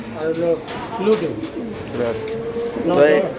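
Racing pigeons, Johnson bloodline, coo in a loft in several soft, repeated throaty calls close by, with someone talking over them.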